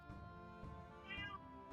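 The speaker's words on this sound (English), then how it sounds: "That's my cat." A cat meows once in a clear, drawn-out call, close and fairly quiet, with no talking over it.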